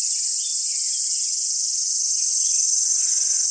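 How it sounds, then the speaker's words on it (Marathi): Crickets chirping on a village morning, a dense, continuous high-pitched trill that holds steady and loud throughout, with no other sounds. "गावची सुंदर सकाळ रात केल्यांचा आवाज बघा किती येतोय"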